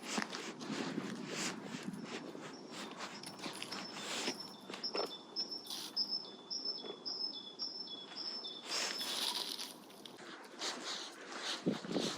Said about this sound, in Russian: На улице никого нет, и слышно, как поют птички.